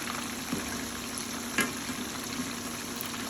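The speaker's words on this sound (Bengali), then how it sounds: "অলমোস্ট চিংড়িগুলো ভাজা হয়ে গিয়েছে" Battered shrimp, tempura style, frying in hot oil with a steady, moderately loud sizzle and scattered crackles and pops, heard alone without talk.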